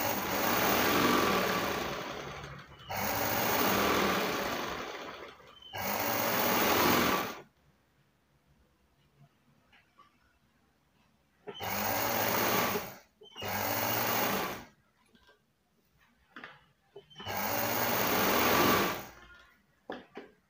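A sewing machine stitches a blouse in several loud, whirring bursts of a few seconds each, separated by quiet pauses, with a voice speaking softly between runs.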